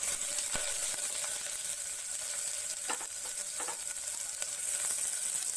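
Onions sizzling in hot oil with black pepper for paneer pulao, a constant bright frying hiss with a few soft clicks and scrapes of stirring, close and without speech.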